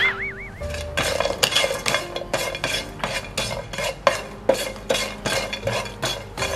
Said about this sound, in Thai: คั่วให้มันหอมครับผม